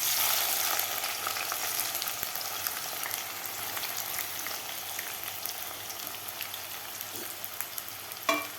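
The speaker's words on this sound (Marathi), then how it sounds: "तर आता आपल्याला तेलामध्ये हे कांदा तळून घ्यायचा आहे." Three medium onions, sliced thin lengthwise, fry in hot oil in a kadhai over a high flame for egg biryani, giving a dense, even hiss of sizzling that fades slightly, with a sharper clatter near the end.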